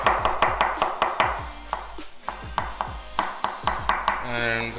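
A knife chops one clove of garlic on a board in quick, even strikes up close, then stops briefly and starts again in a second rhythmic burst.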